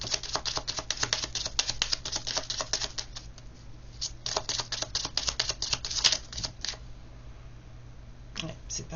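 Playing cards shuffled and drawn during a French-language tarot-style reading, giving rapid dense riffling clicks in bursts with short pauses, close and moderately loud, with a voice talking in places.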